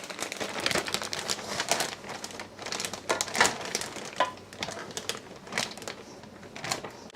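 Plastic 2.5 gallon Ziploc bag crinkling and crumpling as it is folded over and handled for raw chicken, close and irregular bursts of rustling throughout.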